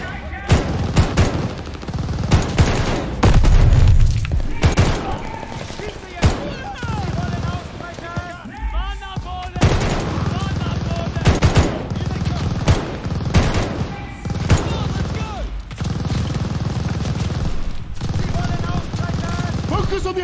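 A machine gun nest firing in a Call of Duty Vanguard battle in Berlin, 1945: dense, loud, continuous automatic fire and explosions throughout, with shouting voices mixed in.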